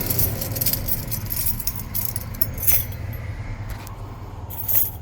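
A bunch of keys jangles and clinks continuously up close as someone rummages through them, small metallic taps ringing over a low steady rumble, with no talking.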